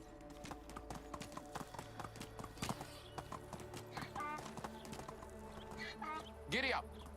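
A horse gallops in the medieval village game Medieval Dynasty, its hooves clip-clopping in a quick, steady rhythm, with a short neigh rising near the end.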